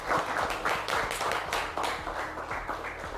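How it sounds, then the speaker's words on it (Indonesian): A classroom of students gives a student a steady round of clapping, moderately loud and sustained throughout, with no talking over it. "Ya, tepuk tangan untuk Aditya."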